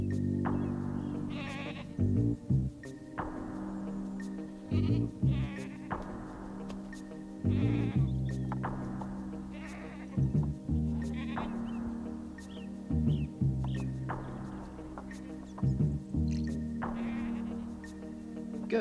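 Goats bleat repeatedly, several loud nasal wavering calls coming every couple of seconds, close by, over a quiet outdoor background with faint buzzing insects.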